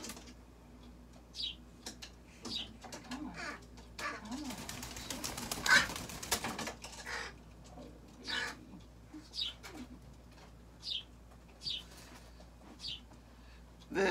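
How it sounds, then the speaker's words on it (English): A pet sparrow kept indoors gives short, high chirps repeated every second or so, faint against a quiet room, with a brief burst of rustling noise partway through. "I got this sparrow I've been looking after."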